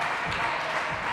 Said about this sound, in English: The Echidnas crowd getting behind them.